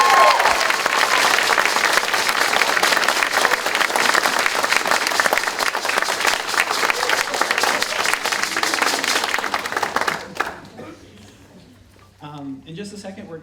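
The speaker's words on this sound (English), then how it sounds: "It would be much appreciated if you would give our graduates one last round of applause." Audience applause for graduates at the Penn State M.A. in Psychology hooding ceremony, sustained dense clapping in a large hall for about ten seconds before fading out, followed by a brief moment of quiet voices.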